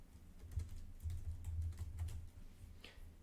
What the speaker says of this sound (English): So I'll type in my name here.